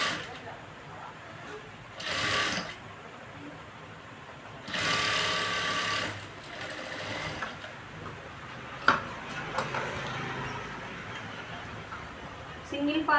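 A sewing machine stitching a beaded work blouse runs in short whirring bursts, the second one longer, with small mechanical ticks in between while someone talks over it.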